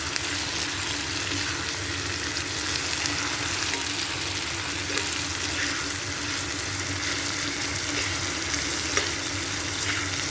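Chopped onions and shallots sizzle and fry in a pan as they are stirred for a Kerala-style crab roast, a steady close sizzle with faint scraping throughout and no talking.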